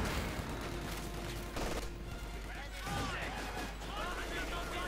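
A dense Company of Heroes 2 battle rumbles with grenade blasts and rattling gunfire, loud and continuous, while a commentator talks over the combat.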